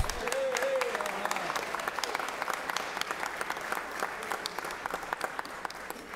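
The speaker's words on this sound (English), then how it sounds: "Let's give him a big round of applause." An audience in a Georgia Senate chamber gives sustained applause for a Special Olympics athlete who represented Georgia and the United States at the Los Angeles games, dense steady clapping from a large crowd with a brief voice early on.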